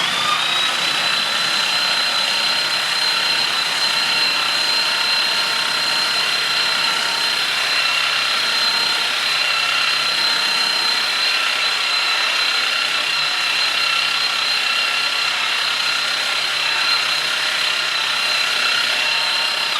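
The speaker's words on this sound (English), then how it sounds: "we're using a random orbital sander, so we don't have to worry too much about digging out any pulp" Random orbital sander running on teak, a steady continuous whirring drone with a bright high-pitched tone, constant and close throughout with no talking.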